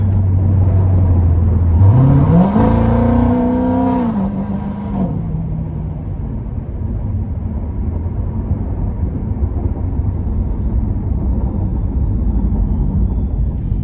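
An 850-horsepower procharged C7 Corvette Z51 revs up with a loud, rising exhaust roar and supercharger whine, then settles into a deep, rumbling idle that continues steadily afterward.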